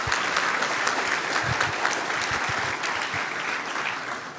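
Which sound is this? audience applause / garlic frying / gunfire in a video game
audience applause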